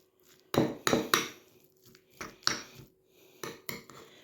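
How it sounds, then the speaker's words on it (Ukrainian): Meat salad being mixed with mayonnaise and garlic in a bowl gives a series of sharp clinks and scrapes of a utensil against the dish, several close strokes spaced irregularly with quiet gaps between. "Все гарненько перемішуємо"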